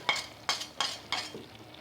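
Minced meat and green beans with green chili and fresh coriander get stirred in a pan: four distinct, close scraping strokes about a third of a second apart over a soft sizzle.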